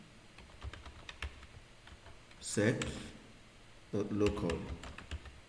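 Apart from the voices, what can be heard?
typing on a computer keyboard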